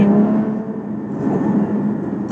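Engine and exhaust of a Porsche Cayman 981 GT4 in sport exhaust mode, a loud, close, steady drone with a slight rise and fall, heard alone.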